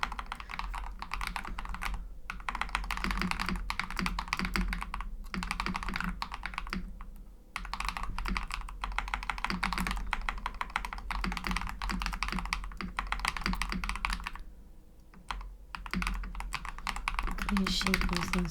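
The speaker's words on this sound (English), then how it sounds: "I hope you like my clicky clacky keyboard." A clicky mechanical computer keyboard types continuously in rapid, uneven bursts with brief pauses, close and prominent, while a person talks intermittently underneath during a game stream.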